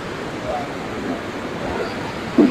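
Fast-flowing flooded river in Assam near Dhansiri Ghat, a steady broadband rush of water that stays constant and fairly close, with a brief bump near the end.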